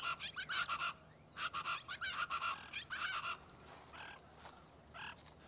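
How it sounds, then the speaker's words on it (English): Chachalacas, noisy gregarious birds of Texas brush country at the Santa Ana Wildlife Refuge, call in loud, harsh repeated bursts, a rhythmic chorus that fades to a few fainter calls. "the chachalaca, a noisy, gregarious bird common at the Santa Ana Wildlife Refuge"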